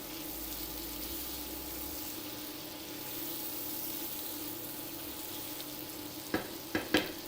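Onions and garlic frying in a non-stick wok give a steady, fairly quiet sizzle throughout, with a few sharp stirring clatters near the end.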